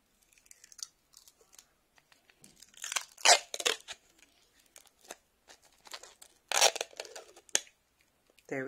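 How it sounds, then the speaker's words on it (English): Protective blue film being peeled off a stamping plate: crinkly tearing and crackling in short irregular bursts, close and fairly quiet, with soft pauses between pulls. "you peel off the blue film because you won't be able to stamp with that on"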